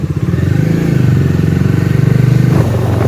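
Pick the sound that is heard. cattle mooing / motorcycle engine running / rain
motorcycle engine running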